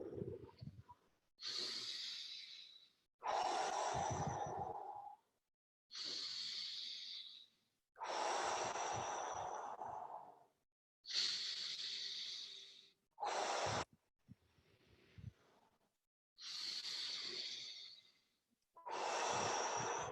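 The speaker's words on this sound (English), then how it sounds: "So keep on breathing." Deep, slow breathwork breathing during a guided breathing exercise, long full inhales and exhales in a steady rhythm about every two seconds, close and clear, with no talking.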